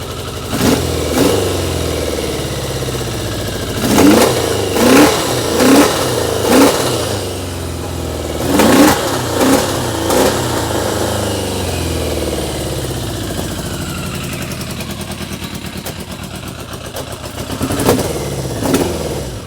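A 1980 Yamaha XJ650 motorcycle engine idling roughly and revving in short bursts, several sharp blips over an uneven idle, loud and close, with the revs fading as the fuel runs low.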